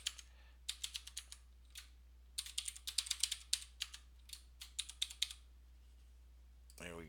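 Close, brisk typing on a computer keyboard while information is entered into a form, with irregular bursts and runs of sharp keystrokes separated by short pauses. A brief rising tone follows at the very end.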